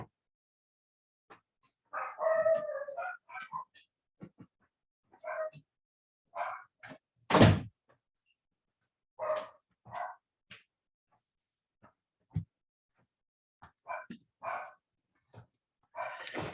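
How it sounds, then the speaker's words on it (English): Two guard dogs bark in scattered bursts, with single sharp woofs and short clusters separated by quiet gaps. One much louder bark stands out in the middle, and a few softer yips trail off toward the end. "I happened to get a couple of dogs that are naturally guard dogs"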